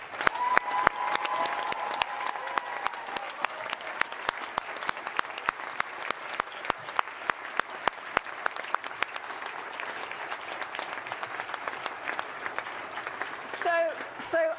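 An audience applauding steadily, a dense even patter of many hands clapping for the whole stretch, with sharper individual claps standing out and a voice briefly audible toward the end.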